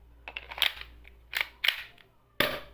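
A KWA Glock 18 airsoft gas pistol fires a handful of sharp, snappy pops in quick irregular bursts with a faint gassy hiss between shots, close and loud, followed by one final crisp shot after a short pause.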